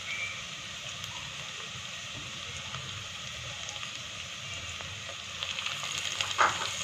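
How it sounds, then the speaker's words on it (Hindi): Garlic and ginger fry in a pan for a tinda and mutton curry, giving a steady crackling sizzle close by, with light stirring scrapes and a brief louder clatter near the end. "अब मैं इसमें लहसुन अदरक डाल दूँगी।"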